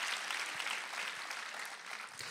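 A church congregation applauding during a sermon, soft diffuse clapping spread across a large room, fairly faint and steady with no voices on top.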